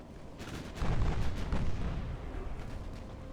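Naval guns fire in the Ultimate Admiral Dreadnoughts warship game, a deep rumbling salvo of booms that swells and rolls for about a second, then trails off into a low continuing rumble.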